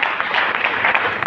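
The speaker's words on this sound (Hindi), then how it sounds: "जबरदस्त तालियां" A seminar audience breaks into steady, dense applause, a continuous wash of many hands clapping close by and fairly loud for a moment.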